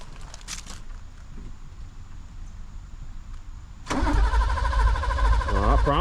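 Car engine turning over after the batteries are connected, a sudden loud rhythmic cranking that starts midway and keeps going, close by, with no talk.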